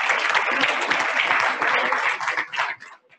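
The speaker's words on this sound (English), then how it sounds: "Give them a round of applause right now." A farmland rent meeting audience applauds the lunch sponsor, a full, close burst of many hands clapping that holds steady, then tapers off abruptly in the last half second.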